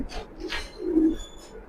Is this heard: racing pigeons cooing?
yes